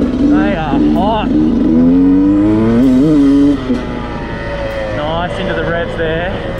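A 2019 Beta 200RR two-stroke enduro motorcycle revs with rising, wavering engine pitch, loud and close, while a rider talks over it.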